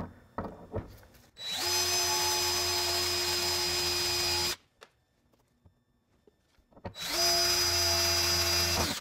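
A power drill drilling through metal whines steadily at close range in two long bursts, with a few faint clicks and knocks in the pause between them.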